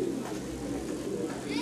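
Giribaz pigeons coo softly in a club loft, low throaty calls close by with a voice talking over them.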